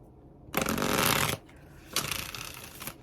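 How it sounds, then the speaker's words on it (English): A deck of tarot cards is shuffled in two quick riffling bursts, the first longer and louder, the second briefer, close by in a quiet room. "Let's give her a shuffle."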